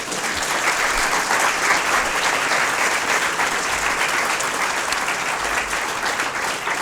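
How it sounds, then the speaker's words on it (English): Audience applause at a seminar and book launch honouring Barry Desker, a full, steady roomful of clapping that stays loud and even for the whole stretch. "join me in a great round of applause for Barry Desker"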